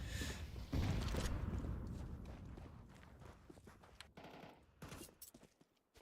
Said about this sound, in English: The shots are coming out from Quantumus, but he's one of the players with the USP.